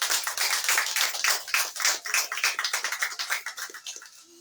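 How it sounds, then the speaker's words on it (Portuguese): A church congregation bursts into lively applause for Jesus at an Apostolic Pentecostal service, many hands clapping in a dense, bright patter that stays loud and close before tapering off toward the end. "Pode bater uma salva de palmas para Jesus"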